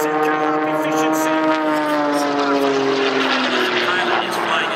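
The engine of a race airplane at the Red Bull Air Race in Budapest drones loudly and steadily in flight, its pitch sliding slowly downward, while a commentator talks over it.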